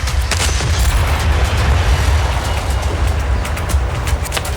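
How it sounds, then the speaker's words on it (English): Explosions and gunfire from the video game Just Cause 4, a dense, loud, continuous rumble of blasts and shots with heavy low-end booming and scattered sharp cracks throughout, no voices. "But the explosion, the gunfire, it's unnerving."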